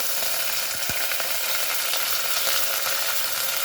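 Curry leaves and chana dal sizzle in hot oil for a Kongu-style tomato curry, a loud, steady, close frying hiss with a few sharp crackles early on and no talking.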